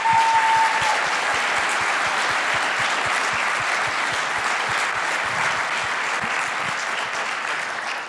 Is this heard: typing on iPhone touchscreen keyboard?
no